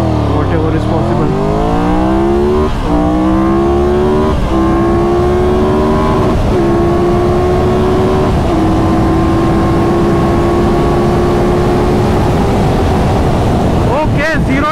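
Triumph Tiger 1200 GT motorcycle pulling hard through fifth gear in sport mode, a loud, close engine note sweeping steadily upward for several seconds with brief shift-like breaks and wind roar underneath, then easing off at the end.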